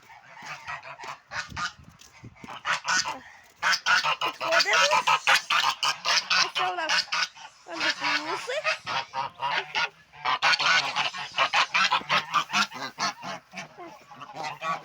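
A flock of geese honking loudly and continuously, many overlapping calls close by with only brief pauses.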